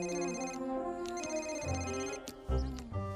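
Telephone ringing for an incoming call in the Sonic X cartoon, a repeating electronic ring tone heard clearly with a few short breaks and no talk.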